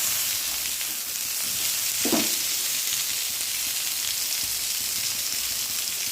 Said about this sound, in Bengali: ভালো করে একটু ভাজা করে নেব।